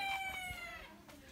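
A young rooster on a farm in the Sergipe backcountry crows faintly and briefly, its strained call sitting low in the background.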